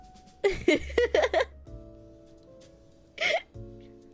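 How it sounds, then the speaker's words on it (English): A person gives a single hiccup, a short sharp catch of breath near the end, after a stretch of quiet giggling and laughter, close and soft over faint background music. "I got a hiccup."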